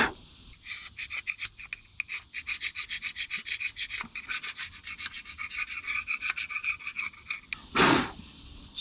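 A scraper works grime off the carburetor of a 1990 Ford F600 in quick, rhythmic, raspy strokes. The strokes are close and fairly quiet, with no voices.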